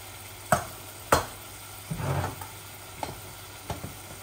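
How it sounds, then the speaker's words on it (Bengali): Cumin, curry powder and coriander being stir-fried in a pan for keema, with a few sharp spoon knocks and short bursts of sizzling scrape, close and quiet. "এখন শুধু ভুনবো"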